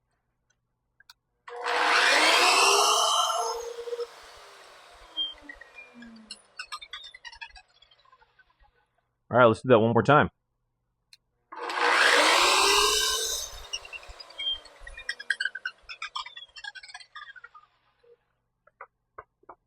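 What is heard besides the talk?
budget track saw blade spinning up and cutting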